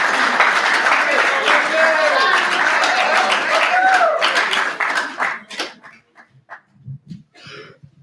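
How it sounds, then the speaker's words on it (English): Audience applause at a Pasifika Fusion 2024 speeches event, a steady dense round of clapping that fills the room, then tapers off into scattered claps and quiet at the end. "can we all give another round of applause, please?"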